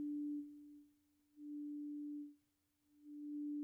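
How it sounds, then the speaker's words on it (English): A single synthesizer sine wave tone passed through a filter, a pure steady pitch that swells loud, dips quieter and swells again in a slow on-off cycle, alone and clean. "Now, sine waves are just a single frequency."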